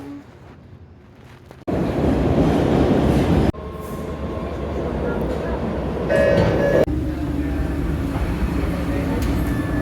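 A Boston subway metro train rumbles loudly and steadily close by, with abrupt shifts in the roar, a faint screech of wheels and voices heard under the noise.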